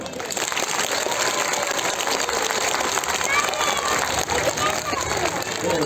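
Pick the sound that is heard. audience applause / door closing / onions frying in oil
audience applause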